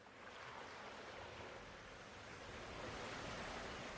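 Gentle waves lap steadily against a tropical beach shore, a soft continuous wash of surf heard alone with a slight swell toward the end.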